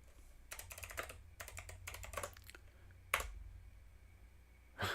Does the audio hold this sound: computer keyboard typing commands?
yes